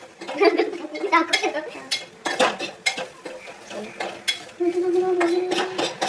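Grated coconut is stirred and roasted in a pan in a home kitchen while cooking crab, with close scraping of a utensil against the pan and a faint sizzle, and people talk in between.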